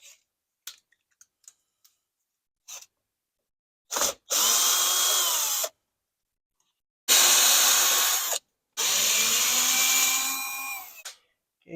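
A power driver spins Torx T20 screws out of a BMW headlight cover in three close bursts of high whirring, with a few sharp clicks and handling taps before them.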